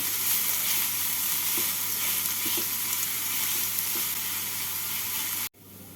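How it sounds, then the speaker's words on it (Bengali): Chopped onions, two small ones, frying in hot oil in a pan for mutton keema bread rolls, giving a steady, dense sizzle with faint stirring scrapes throughout, alone and close, cutting off abruptly near the end. "পেঁয়াজটাকে হালকা লাল করে ভেজে নিচ্ছি"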